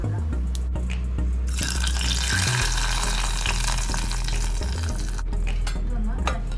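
Hot Kerala-style tadka of curry leaves and dried chilli poured into dal makes a loud, sudden sizzle that bursts up and then fizzes steadily for a few seconds, with some stirring and clinking around it.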